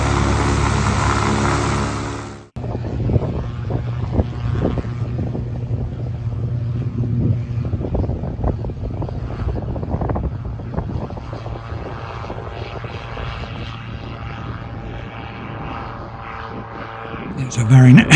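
Shadow 912 SSDR single-seat deregulated microlight in flight on a circuit of the pattern, its steady propeller and engine drone loud and close from inside the cockpit, with people talking over it throughout.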